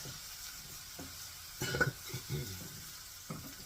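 Onions cooking in a pan give a soft, low sizzle, broken by a few louder scrapes and clinks of a utensil stirring them; no one talks.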